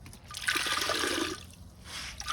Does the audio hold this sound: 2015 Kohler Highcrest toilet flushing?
yes